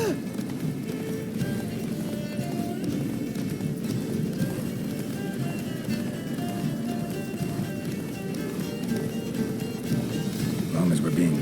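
Roach, a horse in The Witcher 3, gallops with steady rhythmic hoofbeats under a continuous bed of game ambience and voices talking.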